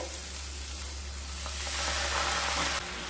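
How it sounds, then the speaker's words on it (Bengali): Mustard paste and spices fry in a pan over low to medium heat with a constant, moderately quiet sizzle and hiss that swells slightly midway, with a low hum beneath. "সর্ষে দিয়ে আবারও মশলাগুলোকে খুব ভালো মতো লো টু মিডিয়াম স্টিমে কষিয়ে নেবো"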